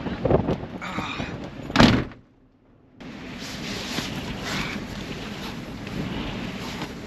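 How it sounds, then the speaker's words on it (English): Strong wind gusts across the summit of Mount Wellington above Hobart, Tasmania, buffeting the microphone in loud bursts, then cutting out for about a second before a steady windy rush returns and continues. "I knew it was going to be pretty windy up the top"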